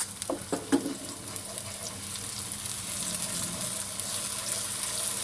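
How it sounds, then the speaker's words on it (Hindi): Garlic ginger paste sizzles quietly in a hot pan, a soft steady hiss with a few clinks of a spoon near the start. "इतना फ्राई करेंगे कि ज़रा इसका कच्चापन खत्म हो जाए।"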